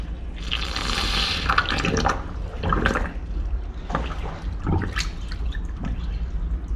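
Water gushes and splashes out of the opened drain plug on a Grundfos pump during motor installation, a continuous loud pour with trickling and dripping, close and without talk.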